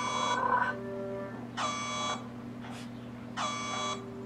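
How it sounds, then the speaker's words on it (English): An alarm buzzer from the Red vs Blue series sounds in three repeated harmonic bursts, each about half a second long, over a steady electronic hum. "Sound the alarm."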